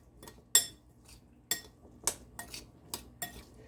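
Chickpeas are tossed with a tablespoon of seasonings in a bowl, heard as a quick series of close, bright clinks and scrapes of a utensil against the dish, with quiet gaps between them.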